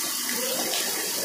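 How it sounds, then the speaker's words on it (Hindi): Water falling from above inside Wari Chora cave in the Garo Hills of Meghalaya, a steady, loud, close rush of splashing water filling the whole moment with no voices. "ऊपर से गिरता पानी"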